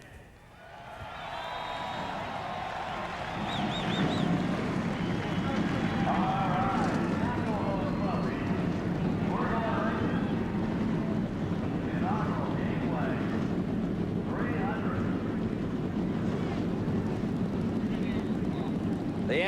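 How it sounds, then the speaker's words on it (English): Busch Grand National stock car engines firing at the 1997 Gateway 300, a loud rumbling roar that swells after a couple of seconds and holds steady, with an announcer talking over it. "The engines have fired."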